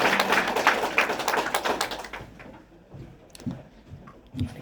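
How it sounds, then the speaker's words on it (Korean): A lecture audience in a Korean Bible class gives brief applause: a dense patter of clapping for about two seconds, then fading into a few scattered claps and small knocks. "박수"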